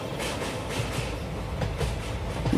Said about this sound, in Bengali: একটা লম্বা হুইসেল দিয়ে ট্রেনটা ছেড়ে দিল।